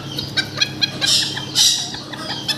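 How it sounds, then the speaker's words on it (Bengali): A single fancy rooster on a farm selling poultry gives a few short, close clucks and chirpy calls in quick bursts, with no talk over them. "এটা হলো সিঙ্গেল একটা মোরগ"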